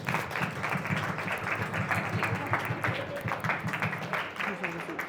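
An audience at an entrepreneurial workshop during a London careers festival applauds steadily at moderate volume, with talk mixing in over the clapping throughout.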